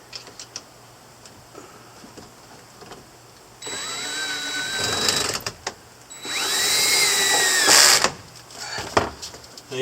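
A power drill drives self-tapping screws into an airflow adapter on a Nissan NV rear air flow fix, firing in two short whirring bursts that rise in pitch, with quiet clicks and handling noises between them.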